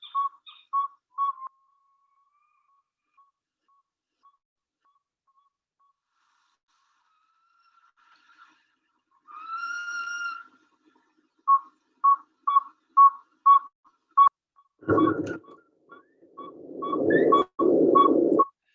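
Northern Saw-whet Owl chirps and whistled notes arrive in a quick, repeated series, sparse at first and then denser, ending with noisy bursts and rustling close by.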